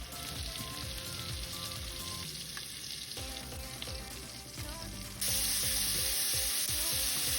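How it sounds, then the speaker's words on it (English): Curry shrimp searing in a hot pan, a loud, continuous close sizzle with faint stirring, jumping brighter and louder near the end. "That shrimp is done, nicely seared."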